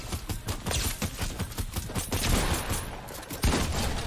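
Rapid bursts of gunfire from a Fortnite Battle Royale match, loud and close, with repeated shots clustered throughout and a heavy burst near the end.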